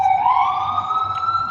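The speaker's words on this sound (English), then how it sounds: "Hear them sirens?" Emergency vehicle siren wailing steadily at one held, slowly rising pitch throughout, fairly loud and clear, with no talk over it.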